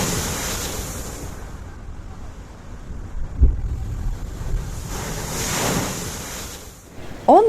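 Ocean waves wash onto the beach at Unawatuna, Sri Lanka, a steady roar of surf with slow swells under gusty wind buffeting the microphone, and no one speaking.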